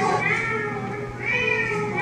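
A person imitates a cat, voicing two drawn-out, wavering meows that rise and fall, close and fairly loud over light background noise.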